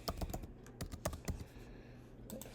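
Fingers type on a computer keyboard, producing quiet, irregular bursts of clicking keystrokes with short pauses between runs. No one speaks.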